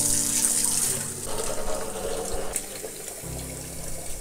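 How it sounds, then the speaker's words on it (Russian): Boiling-hot water runs from a tap into a container with a steady rushing splash that shifts lower in tone near the end, with no voices. "Включаем кипяток и набираем чистый кипяток с крана."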